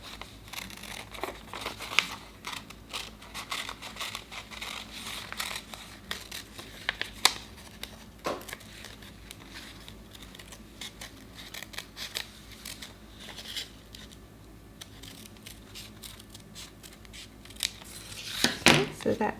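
Scissors snipping through plain paper while making a paper clock-face craft, a steady run of quiet, close crisp cuts with occasional paper rustles and a sharper crinkle near the end.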